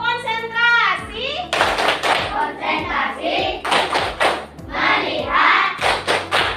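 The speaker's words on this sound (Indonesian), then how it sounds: "ibu minta tepuk konsentrasi" Schoolchildren in an Indonesian classroom doing a concentration clap routine: a rhythmic series of loud, regular hand claps and thuds repeated about once every half second, with children's voices chanting along throughout.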